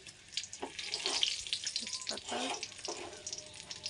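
Whole bay leaves hit hot oil that was just used to fry potatoes, giving a soft, crackling sizzle that comes in bursts, while someone talks over it in Bengali.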